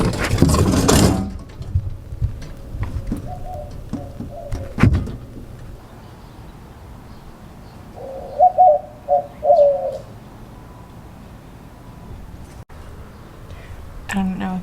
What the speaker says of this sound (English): there's pigeons everywhere